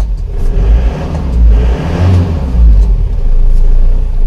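Isuzu Panther diesel engine revving hard under repeated throttle presses during service for low compression, a loud, close, rumbling drone that surges and falls in several waves with no talk.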